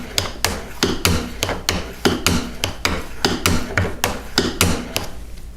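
A steel burnisher is rubbed back and forth on a steel card scraper at a woodworking bench, giving crisp, close, evenly spaced scraping strokes at about three per second, loud and alone.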